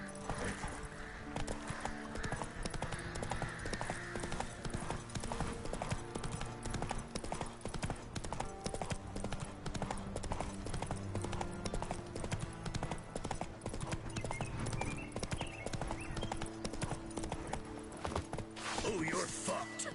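Roach the horse galloping in The Witcher 3, a continuous rhythmic drum of hooves across the whole stretch, with game voices speaking over parts of it.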